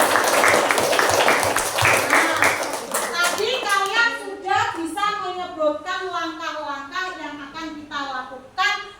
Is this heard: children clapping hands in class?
yes